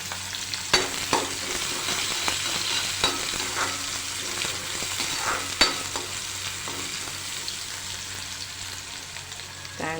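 Finely chopped onions fry with hot green chillies in a pan, giving a steady, dense sizzle with occasional crackles and light stirring taps, close and continuous throughout.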